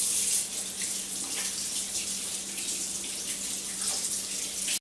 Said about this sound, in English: you want to wash your hands with warm soapy water for 20 seconds